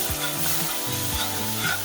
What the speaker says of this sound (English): Or actually, I'm gonna switch to a whisk. We're gonna whisk this in.